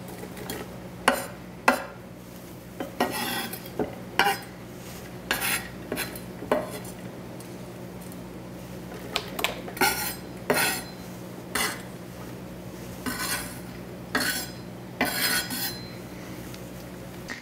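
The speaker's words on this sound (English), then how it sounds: "I'm going to scoop these into the blender and try not to drop too much." Food is scooped from a bowl into a blender during home cooking, producing repeated sharp clinks and scrapes of a spoon against a dish at an irregular rhythm, close and clear, with a steady low hum underneath and no talking.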